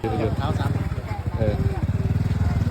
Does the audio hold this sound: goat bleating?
no